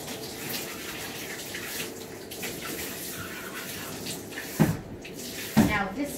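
Running water from a bathtub rinses shampoo out of a dog's coat, a continuous close splashing wash with a couple of sharper knocks near the end, a voice talking over it.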